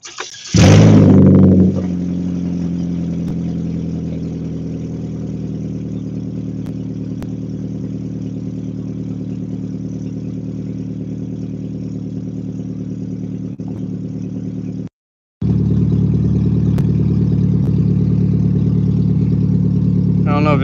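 A car engine fitted with a dual exhaust starts with a loud burst, then settles into a steady close-up idle that cuts out briefly near the end and resumes.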